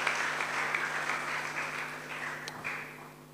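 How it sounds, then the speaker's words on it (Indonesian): A church congregation applauds with sustained, dense clapping that fills the room, with a low hum underneath and a slight fade toward the end. "Beri tepuk tangan terbaik buat Tuhan Yesus Kristus."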